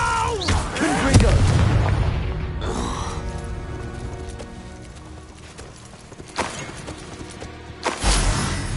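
Booming blasts from Confringo spells in Hogwarts Legacy arrive in a few loud, close bursts separated by quieter rumbling game sound, with clattering hoof-like thuds mixed in.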